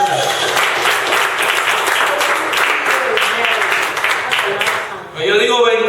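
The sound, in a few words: church congregation applause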